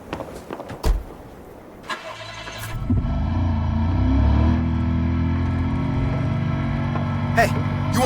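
A car engine starts in the video game Battlefield Hardline, preceded by footsteps and a door clunk, then cranks and settles into a steady, loud mid-pitched idle rumble with a brief bump near the end.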